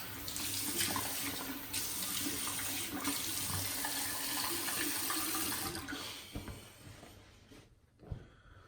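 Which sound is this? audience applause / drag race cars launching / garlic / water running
water running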